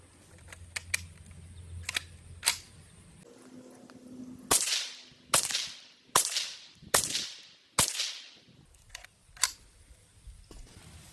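Several sharp, distinct .22LR rifle shots from an 18-inch barrel crack out one after another at irregular intervals, each a crisp report with a brief tail, set against a quiet outdoor background.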